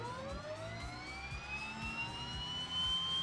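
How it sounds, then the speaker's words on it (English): A Twin Otter turboprop engine spooling up in Microsoft Flight Simulator 2020, a rising whine climbing steadily in pitch over a low rumble, continuous and moderately loud with no talking. "Okay, engine start on the right."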